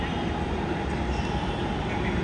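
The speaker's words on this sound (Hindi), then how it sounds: "यहाँ से भी एक मेट्रो आ रही है" A Kanpur Metro train approaches on an elevated track, a loud, steady rumble and rush of wheels and motors that holds without a break.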